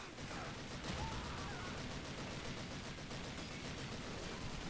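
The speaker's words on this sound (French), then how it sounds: "Tu me tires dessus, toi." Steady, dense gunfire in the World War II shooter Call of Duty 2, a continuous crackling barrage held at an even, fairly faint level for the whole stretch with no pauses.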